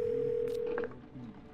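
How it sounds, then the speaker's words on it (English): A telephone ringing during a call in the 12 Minutes video game: a steady electronic ring tone holds for about a second, then cuts off, leaving faint room tone and a brief trailing tone. "call Bumblebee."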